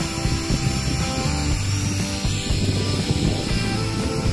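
A drone flying in desert wind, fighting the gusts: a steady, close whining buzz of propellers with shifting motor tones, overlaid by loud wind rumble at the microphone.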